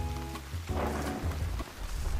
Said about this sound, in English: And there we go, now it's raining.